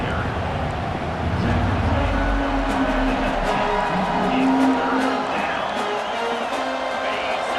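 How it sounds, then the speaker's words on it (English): A football stadium crowd in a video game roars steadily throughout, a dense, sustained wash of cheering with no clear peaks. "the crowd coming to life here, trying to help this defense down in the red zone"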